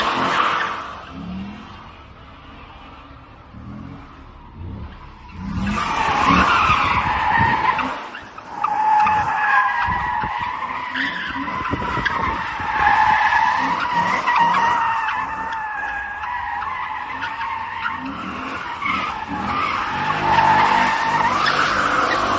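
Pontiac G8 drifting, tires skidding in long squealing slides over a revving engine, loud and sustained after a quieter start, with no talk over it.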